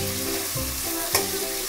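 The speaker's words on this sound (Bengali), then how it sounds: "এটা এবার একটু ভেজে নিতে হবে," Potato and green banana fry in a pan with a steady, close sizzle and crackle, a brief stir clatter partway through, and no talking.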